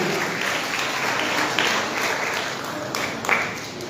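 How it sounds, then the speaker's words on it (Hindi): A church congregation at a Sunday service claps in sustained, dense applause for several seconds, steady and fairly loud throughout with a few sharper peaks. "ताली बजा के परमेश्वर को महिमा।"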